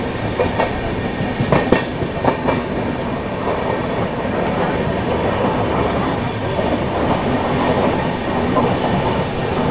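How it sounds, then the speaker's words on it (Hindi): The Secunderabad Danapur Express on an Indian rail line, heard as a continuous loud rolling rumble with rhythmic clickety-clack from the wheels and brief rattling bursts, steady throughout with no talking. "सिकंदराबाद दानापुर एक्सप्रेस।"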